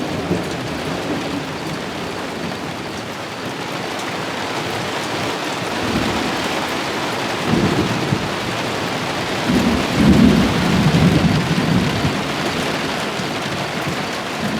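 Heavy rain during a thunderstorm in Larned, a dense continuous wash of falling water with deep rolling thunder swelling midway, loud and close, no talk.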